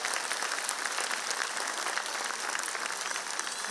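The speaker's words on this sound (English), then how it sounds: "If we can give them a big round of applause." An audience at the Redbricks School annual day in Santej claps for the school team, a dense, even wash of applause that holds steady throughout without any talking.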